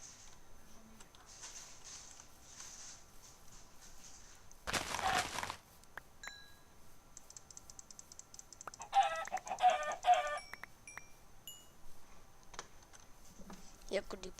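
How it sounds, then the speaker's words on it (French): Minecraft chickens clucking in short game-sound bursts, including a dense flurry of clucks near the end, mixed with sharp clicks and other brief game effects over a quiet background. "Il n'y a que des poulets par ici."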